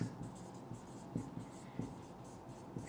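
Chalk or marker writing on a board during a chemistry lesson, faint scratchy strokes and light taps in a short irregular rhythm over quiet room tone.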